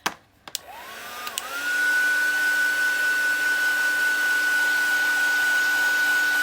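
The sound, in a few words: heat tool heat-setting StazOn stamp ink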